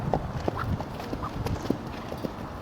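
A horse canters around a circle, its hoofbeats landing in a quick, rolling three-beat rhythm at close range, with light background noise and no talk.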